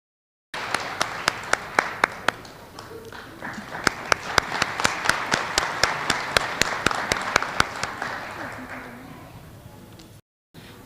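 A school assembly crowd claps for fifth-grade students of the month, with sustained applause sprinkled with sharp individual claps and a few whoops, starting abruptly and ending cleanly after about ten seconds.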